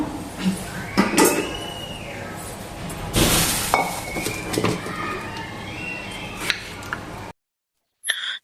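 A knife cuts washed tomatoes into pieces for tomato charu, giving scattered close knocks and taps on a board along with dish and utensil clatter, then a brief silence before more clinking.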